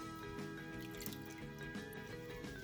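Lemon juice drips and trickles as lemons are squeezed in a kitchen, with a quiet, fairly steady liquid patter close by.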